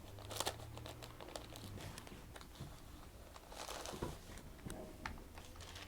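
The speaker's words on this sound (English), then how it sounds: "definitely use the baking parchment at this point. Place that on top, put the iron on top and give it a firm wiggle" Baking parchment laid over fabric crinkles and rustles as an iron presses down and is wiggled firmly, with a continuous close crackling texture and a low hum that stops partway through.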